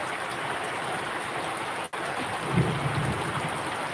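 Steady rain falls outside a house on a wet day, a continuous broadband wash like pouring water, with a brief dropout near the middle and faint low patter afterward; no one speaks.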